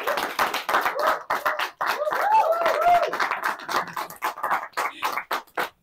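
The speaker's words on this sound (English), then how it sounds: "Please let's give a round of applause to Mrs. Vivian." Scattered audience clapping for a guest at the close of a teen talk show on mental health, uneven bursts of hands with some overlapping voices in the room.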